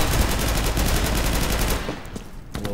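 Rapid rifle gunfire in Insurgency, a loud continuous burst of automatic shots that stops near the end, followed by a couple of faint clicks.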